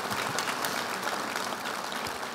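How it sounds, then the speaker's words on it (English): Audience applause at a piano concert, even and continuous with a soft, slightly distant quality and no talking. "Give them a great big round of applause."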